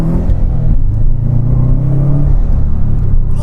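A 2005 Subaru Legacy GT with a manual gearbox pulls away in first gear. Its engine drones loud and close from inside the cabin, the tone climbing steadily as it accelerates, with no one talking.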